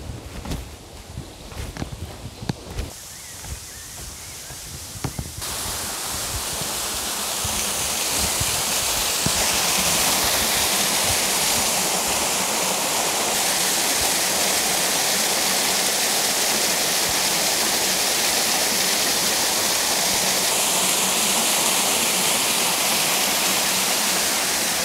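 A waterfall at Rammelsberg in the Harz roars steadily and loudly, first mixed with footsteps and handling noise, then building into a continuous close rush of falling water.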